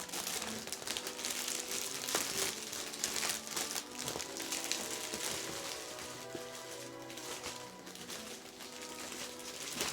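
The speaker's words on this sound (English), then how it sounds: "It's so pretty and crinkly and much nicer than regular plastic." Cellophane gift wrap crinkles and rustles continuously as a cookie package is gathered and tied, producing close, crisp crackling that fluctuates softly without pause.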